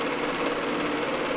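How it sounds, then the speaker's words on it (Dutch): An old sewing machine, roughly fifty to fifty-five years of age, runs with a steady mechanical whirr and fast rhythmic clatter, close and alone. "dit is een naaimachine die is pakweg 50, 55 jaar oud"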